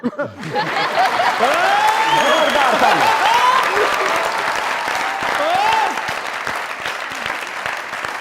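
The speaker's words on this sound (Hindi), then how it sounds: "जोरदार तालियां।" Loud applause from a comedy show studio audience fills the whole stretch, steady and dense, with some light chuckling mixed in.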